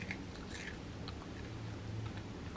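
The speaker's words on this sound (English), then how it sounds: "So I'm going to let her try a Cheeto." A young child bites into and chews a crunchy Cheeto cheese snack, giving soft, close crunching and chewing sounds over a steady background hum.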